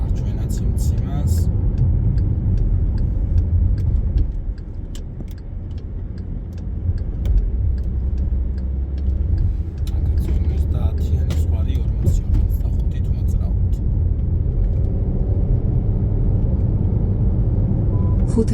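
A car drives on a road in Rustavi while slowing into a deceleration lane before a right turn, its engine and tyre rumble steady and close throughout, with a voice talking over it.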